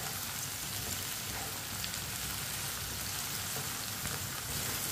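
Sliced okra sizzles steadily in a hot pan as it is stirred with a spoon until lightly browned, a dense and even crackle that holds at constant loudness, with no voices.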